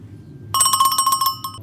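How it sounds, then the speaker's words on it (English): A Greek goat bell rings in a quick, rattling series of clangs for about a second, close and bright, then stops against a quiet low hum. "It's a Greek goat bell."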